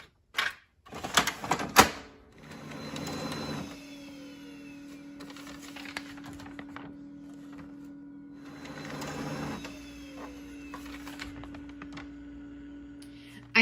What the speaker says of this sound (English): Make sure when you're printing on the shiny side and feed it into your printer